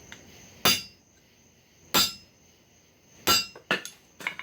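Hammer strikes on hot metal on an anvil while forging a copper and steel spatula: five sharp ringing blows, evenly spaced at first and then quicker, close and loud with quiet gaps, no talking.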